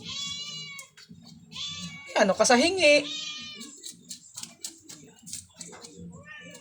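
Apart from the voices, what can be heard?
cat meowing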